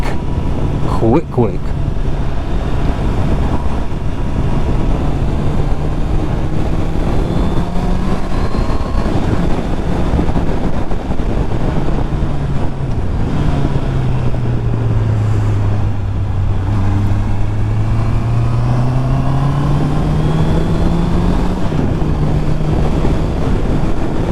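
A Honda CBR650R motorcycle engine drones steadily while being ridden, its pitch rising and falling with the throttle under heavy wind rush at the microphone, loud and continuous.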